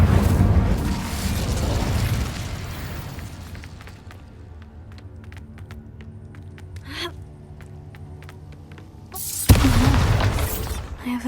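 Fire spell Incendio cast in the video game Hogwarts Legacy, a sudden loud whooshing burst near the end after a quieter stretch of small clicks and ambience, with an earlier surge of noisy effects at the start.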